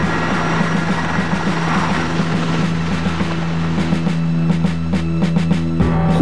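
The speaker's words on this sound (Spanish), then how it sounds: "Hubo que traer a los 5 helicópteros especiales." Constant droning rotor and engine noise from large firefighting helicopters working a wildfire, loud and steady, with rhythmic blade chop pulsing through toward the end and wind buffeting the microphone.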